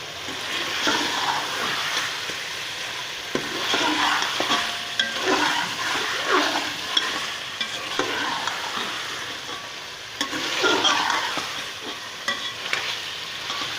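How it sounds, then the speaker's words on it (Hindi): Chunks of potato and beef fry in a pot for aloo gosht, with steady close sizzling and repeated scraping stir strokes throughout, no talking. "ये हमारी जो है आलू की और गोश्त की भुनाई मुकम्मल हो चुकी है।"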